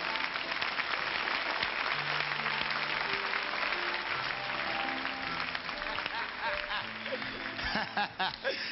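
Studio audience clapping on a French television variety show, a dense, sustained wash of applause heard up close with faint voices and a little laughter mixed in, thinning out near the end.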